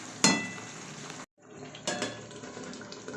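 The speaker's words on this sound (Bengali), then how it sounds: "আমি ঢাকা দিয়ে দিচ্ছি," A lid settles onto a cooking pot of simmering mutton curry with a bright metallic clank, followed after a short gap by another softer clatter over faint sizzling.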